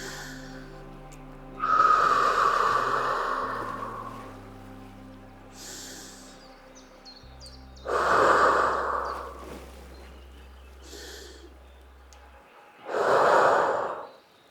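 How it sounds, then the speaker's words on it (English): Three slow, deep breaths during a calm yoga practice, each a long audible airy inhale or exhale separated by quiet pauses, close and fairly loud with no talking. "Take 3 more deep breaths here."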